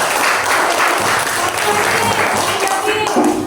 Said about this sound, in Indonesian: tepuk tangannya anak-anak